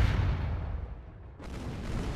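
Broadside cannon fire from ships in Age of Pirates 2 rolls as a loud, low, rumbling barrage of booms that dips briefly and then swells again, with no voices over it.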